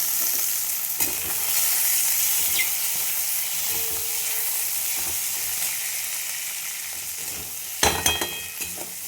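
Bell pepper and capsicum stir-fry in a hot pan for chow mein, with a steady loud sizzle and hiss throughout and scraping stirs, including a burst of clattering spatula strokes near the end.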